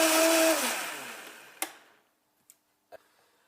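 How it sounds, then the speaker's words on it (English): Countertop blender whirring loudly on a green smoothie of greens and coconut powder, running for about half a second before winding down, followed by a few faint clicks and taps in near silence. "we're ready to blend"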